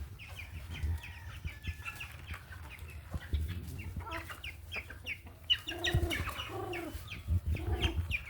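Backyard hens cluck repeatedly at feeding time, close by, in short bursts of calls over a low hum, with a few sharper clucks near the end.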